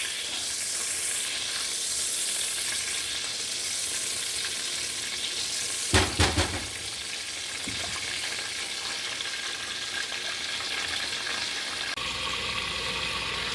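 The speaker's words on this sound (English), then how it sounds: "Okay, so my butter's all melted." Butter melts and sizzles in a pan with a steady, close frying hiss, broken midway by a couple of brief clunks before the sizzling continues.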